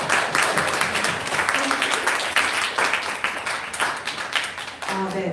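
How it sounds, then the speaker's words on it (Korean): Audience applause at a live talk-salon event about wheat beer, a steady burst of clapping for about five seconds with faint voices and a few tonal bits near the end. "저희 박수 한번 다시."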